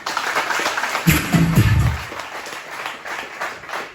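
Applause from an audience at a business meeting, a diffuse spread of clapping with a voice briefly speaking over it.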